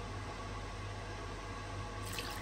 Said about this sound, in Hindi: अब हम जो है इसमें पानी शामिल करेंगे